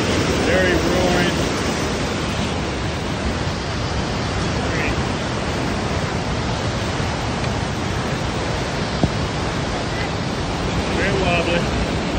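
Steady, loud rushing of turbulent water roars without a break, a dense broadband wash from a fast glacial river close by, heard near a suspension bridge on a mountain trail in Washington's North Cascades.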